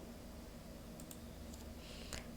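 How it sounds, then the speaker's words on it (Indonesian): A few faint, soft clicks of a single key pressed on a computer keyboard, isolated taps over a quiet background hum. "tekan O pada keyboard"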